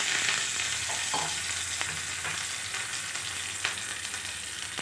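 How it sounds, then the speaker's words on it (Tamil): Mustard seeds and curry leaves crackle and sizzle steadily in hot oil for chutney tempering, a dense continuous fry with a few sharper pops, close and fairly quiet, with no talking. "தாளிப்புக்கு எண்ணெய் ஊற்றியாச்சு. கடுகு போடலாம். கடுகு பொரியுது. இப்போ கருவேப்பிலை சேர்க்கலாம்."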